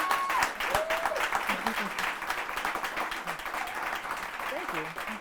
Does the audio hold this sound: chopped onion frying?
no